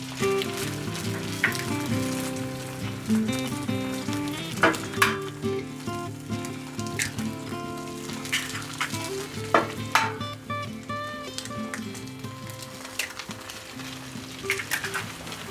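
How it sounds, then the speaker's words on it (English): Eggs sizzle and crackle in a pan on a propane stove turned up high in an off-grid cabin, a close, steady fry with scattered metallic clinks and scrapes of a utensil against the pan. "I turn the propane up to 10, throw the eggs in there and make sure that the white is broke so it runs everywhere in the pan."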